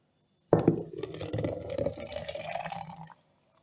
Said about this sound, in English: So I'm going to pour the rest into my jar